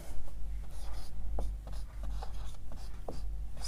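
Pen writing on paper during a maths lesson, a quiet series of scratchy strokes and taps at close range with faint background hum.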